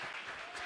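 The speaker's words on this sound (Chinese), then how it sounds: "可以请再给一次鼓励掌声，我们的青少年。" An audience at an indoor gathering applauds, its steady clapping heard faintly and briefly with no voices over it.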